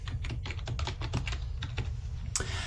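Password being typed on a computer keyboard during software setup: a quick run of close, crisp key clicks in an irregular rhythm, moderately loud over a low steady hum, ending with a slightly heavier keystroke.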